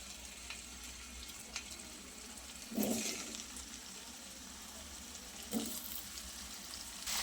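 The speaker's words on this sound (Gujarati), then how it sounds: "તેલ ગરમ થાય એટલે લૂછીને રાખેલા બટેટા ઉમેરી દઈએ." Potatoes frying in hot oil in a kadai, a steady soft sizzle running throughout with two brief louder bursts of crackling as pieces shift, fairly quiet and close.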